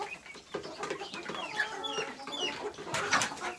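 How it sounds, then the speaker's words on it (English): Two backyard chickens, including a bantam rooster, squabble at close range on a homestead, with agitated clucking, squawks and flapping in quick irregular bursts and a louder flurry near the end. "These are 2 of our chickens that are fighting."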